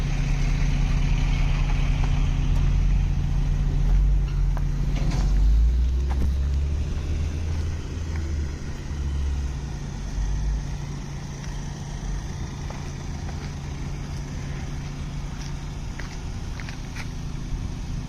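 A loud, deep exhaust on a big-turbo Audi B5 A4 rumbles steadily at idle with low throbbing, swelling briefly early on before settling into a constant drone.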